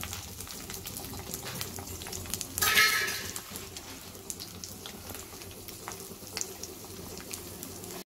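Six garlic cloves sauté in hot oil for a dry fish kolambu, giving a steady, broad hiss throughout with one louder, brighter sizzle burst early on. No one speaks.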